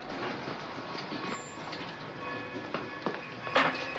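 A train pulling in along a station track, with a steady broadband rumble of rolling wheels and a few sharp clanks and squeals near the end, heard up close with no talk.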